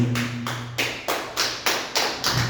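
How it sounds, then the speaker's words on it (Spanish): Church congregation clapping in a steady, unison rhythm, about two claps per second, loud and close, with no talk over it. "Dale un fuerte aplauso para el Señor."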